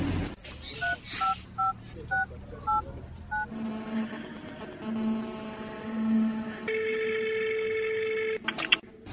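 Telephone keypad tones beep in a quick series of about eight presses, followed by a steady line hum and a sustained ringing tone, fairly close and clear with no talking.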